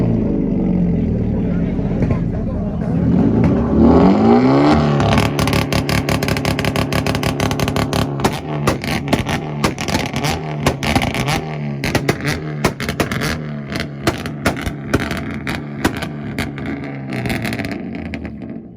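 A Hyundai Veloster's engine roars through a rev battle at an import face-off in Tulsa, holding a loud, sustained, popping rev with a rising pitch early, crackling near and dominant while a crowd cheers around it.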